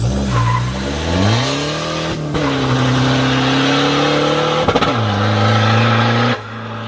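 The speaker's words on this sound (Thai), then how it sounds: "เดี๋ยวลองวิ่งกันดูครับ เบรกมือลง ใส่เกียร์หนึ่ง" A turbocharged car engine on its stock turbo revs hard and climbs in pitch as the car pulls away from a standstill in first gear, with a brief shift break and tire chirp, loud and close, no talking.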